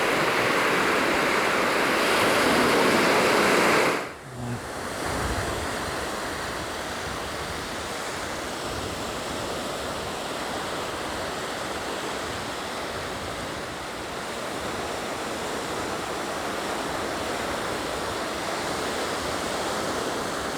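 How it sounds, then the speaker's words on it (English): Incoming tide waves washing onto the beach at Dawlish Warren, a steady broad roar of surf heard close, louder for the first few seconds then continuous and even, with no voices. "I think the tide is starting to come in now."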